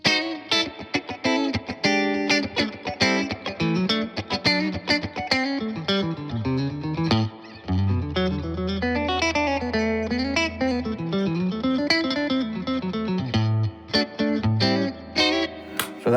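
Electric guitar played through an amp with reverb, ringing chords and quick picked notes with a lingering wash of echo, continuous and fairly loud.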